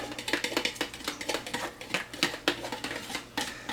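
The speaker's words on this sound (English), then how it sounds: "And you just go ahead and stir it up." A utensil stirs Italian seasoning into homemade pizza sauce in a bowl, making an irregular run of light clicks and scrapes against the sides, close and fairly quiet with no voices.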